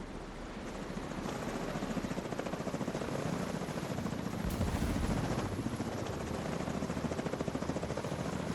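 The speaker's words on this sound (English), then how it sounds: "This one chopper always feels so weird." Helicopters fly in a video game, their rotors chopping in a loud, steady rhythmic thump that stays close and continuous throughout, with no talking.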